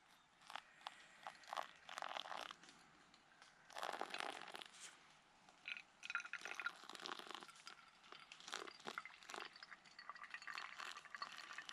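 Hot water poured from a camping pot into a cup for morning coffee at a moto campsite, heard as intermittent close splashing and trickling bursts with short gaps between pours.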